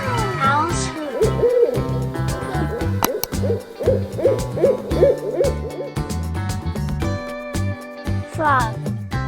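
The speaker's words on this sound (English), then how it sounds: "Owls hoot." An owl hoots repeatedly in a steady series of soft, rhythmic calls, loud and close, set against layered background tones with no talking.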